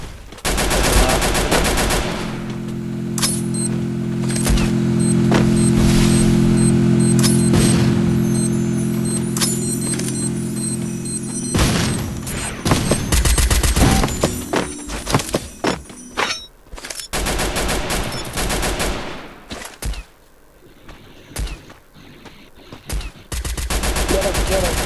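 Rapid bursts of automatic gunfire and single shots ring out in a shooting video game, loud and dense at first, then thinning to scattered shots with brief quiet gaps.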